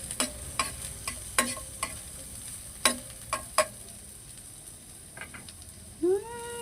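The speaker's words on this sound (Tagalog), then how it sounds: "Gisahin na natin tong mga rekado. Olive oil ang ginagamit kong panggisa" Onion and ginger sautéing in olive oil for fish sinigang, a soft steady sizzle broken by sharp spatula clicks and taps against the pan at an irregular pace, with a brief squeak near the end.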